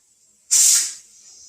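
Steam bursting out of a pressure canner as the lid comes off too soon, a sudden sharp loud hiss that lasts about half a second, then fades to a softer steady hiss.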